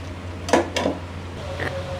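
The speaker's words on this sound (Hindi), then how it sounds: "इसको अच्छी तरह से मिक्स करेंगे ताकि दही की गुठलियाँ ना बन जाए। और इसको हमने 5 मिनट तक अच्छी तरह से पकाना है, भून लेना है गोश्त के साथ।" Meat and yogurt for nihari are stirred and fried in a pot, with two quick scraping clinks of a spoon against the metal and a softer scrape after, over a low background hum.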